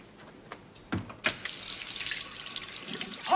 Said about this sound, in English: Hot water, Ruth.